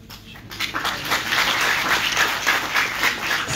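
A burst of applause from a crowd at a college event, many hands clapping together in a dense, steady patter that builds quickly and holds.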